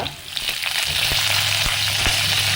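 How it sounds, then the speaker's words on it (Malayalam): Chopped onion and curry leaves hitting hot oil with fenugreek seeds for a sardine dish, a loud close sizzle that rises and holds steady with a few spatula scrapes, no voices. "ഇനി അതിലേക്ക് അരിഞ്ഞു വച്ചിരിക്കുന്ന ഉള്ളി കറിവേപ്പില"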